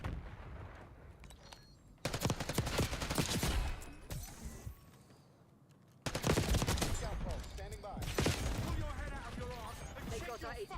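Gunfire in Call of Duty Black Ops 6 comes in heavy, rapid automatic bursts and overlapping shots, loud and dense, with a quieter gap between volleys and voices talking underneath.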